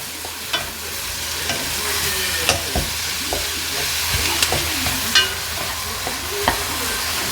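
Vegetables stir-fried for black bean beef sizzle steadily in a hot pan, with sharp clanks of a utensil against the pan scattered through the continuous frying hiss; no one speaks.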